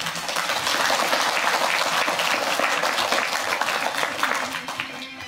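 Sustained audience applause fills a school honours ceremony hall for straight A students, dense steady clapping from a large crowd throughout, fairly loud and even with a slight fade at the end.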